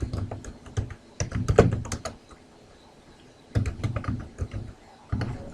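Keys clatter on a computer keyboard as a document title is typed, in quick bursts of clicks separated by short pauses, close and clear with no talking.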